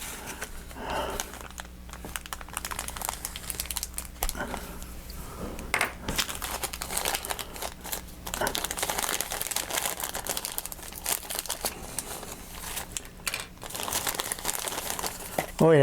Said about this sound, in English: Let me get a knife here to cut this open